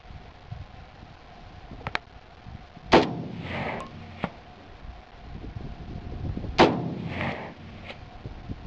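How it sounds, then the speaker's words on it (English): Two shots from a Romanian PSL rifle fired outdoors at a 300-yard target, sharp cracks about four seconds apart, each followed by a short rolling echo over low background noise. "2 shots, rapid succession, 2 hits on target."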